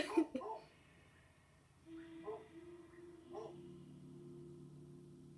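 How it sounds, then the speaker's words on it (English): A stray dog gives a few short barks and whimpers near the start, followed by brief yelps around two and three and a half seconds, with a low sustained whine after that. "Stop barking."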